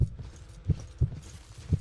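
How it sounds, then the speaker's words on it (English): Four soft, low thuds spaced unevenly, like footsteps, over a faint hissy background with no talking. "I can hear those footsteps."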